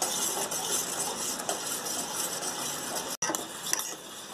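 Cornflour mixture being stirred into milk in a cooking pan. A continuous scraping swish of spoon against metal runs steadily and close throughout, with a brief cut near the end and no voices.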